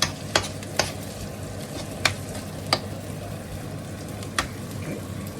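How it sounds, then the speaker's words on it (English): Sweet corn frying and being stirred in a pan, a low steady sizzle broken by several sharp spoon clicks and scrapes at irregular intervals, close by. "Now we're just going to add some sweet corn to it."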